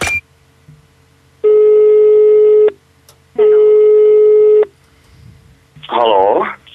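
A telephone tone sounds over a radio line, two long steady beeps of about a second each separated by a gap, then a short burst of speech-like sound at the end.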